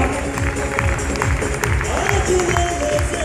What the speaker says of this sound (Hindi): जोरदार तालियों के साथ में all the Perl and star Perl